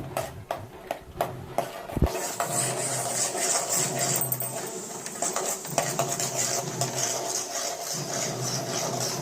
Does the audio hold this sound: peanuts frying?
yes